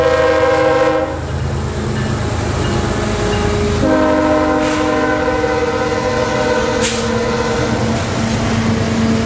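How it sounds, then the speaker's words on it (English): A heavy loaded coal train led by three GE locomotives climbs a hill, its engines droning loud and near with a long blast of the horn, steady rolling rumble and wheel noise throughout. "CO42 comes into view, lugging his heavy train of loaded coal up the hill"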